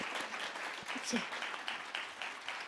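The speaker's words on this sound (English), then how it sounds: "clap it up" Audience clapping at a talk about second chances, a steady wash of applause throughout, moderately faint, with a voice briefly audible over it.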